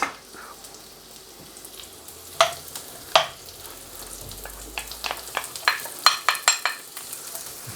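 Onions dropped into hot oil in a steel wok for Chinese chicken and mushrooms, a low sizzle broken by sharp metallic clanks of a utensil that grow quicker and more frequent toward the end.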